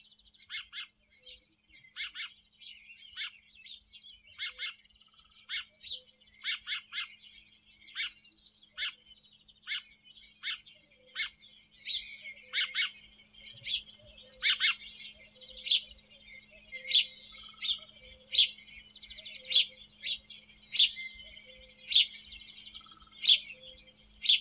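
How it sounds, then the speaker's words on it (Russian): House sparrows chirping in a steady series of short, bright calls repeated every second or so, close and fairly clear, with a faint low hum beneath and no voices. "Воробей."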